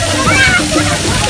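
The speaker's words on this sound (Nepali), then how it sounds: "यो तातो पानी हो तातो पानी" Hot water pours and splashes in a continuous sloshing rush, with voices talking underneath throughout.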